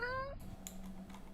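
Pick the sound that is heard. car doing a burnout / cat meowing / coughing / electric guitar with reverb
cat meowing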